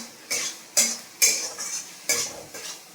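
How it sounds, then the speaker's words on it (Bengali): A utensil stirring spices with salt and sugar in a pan, giving five or six crisp metallic scrapes and clinks at an uneven pace, close and clear, with no talk. "দিয়ে আমি এটা ভালো করে নাড়বো।"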